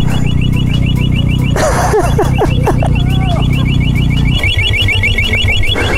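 A car alarm triggered by its remote blares loud and close in a repeating pulsed electronic pattern, with a short gap of clatter and voices before it resumes on a snowy roadside.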